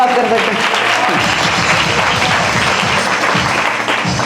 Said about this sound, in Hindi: ताली बजाकर परमेश्वर का धन्यवाद कर सकते